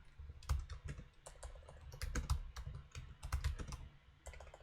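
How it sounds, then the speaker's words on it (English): Typing on a MacBook keyboard, a steady run of quick key clicks close to the mic with uneven rhythm and no talking. "I cannot touch type with this MacBook keyboard, so I always make typos when screencasting"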